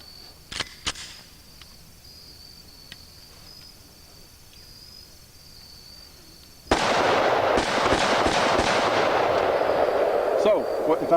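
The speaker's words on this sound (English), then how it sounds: "The Automag 5 is also a 6-shot gun. Now, of course, you can load another magazine real quick, but let's see it in action." A few sharp shots ring out at the start, followed by a loud sustained burst of noise from an Automag 5 pistol chambered in .50 Action Express being fired outdoors.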